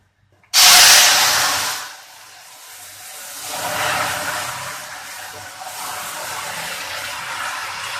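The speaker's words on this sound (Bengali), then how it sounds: "এখন আমি এর মধ্যে ডালটা ঢেলে দেবো" Mango dal poured into a hot mustard-seed tempering bursts into a sudden loud hissing sizzle that fades within a second or two, then settles into a softer steady bubbling hiss close by.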